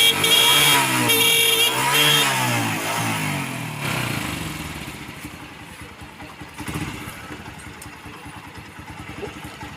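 A Hero Deluxe 125 motorcycle engine revs hard at full throttle for a few seconds, then falls away to a lower, rougher idle clatter close by.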